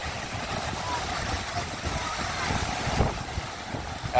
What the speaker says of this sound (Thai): ลมแรงเด้อพี่น้องเด้อมันลมแรงมื้อนี้น่ะเนาะลมแรงหลาย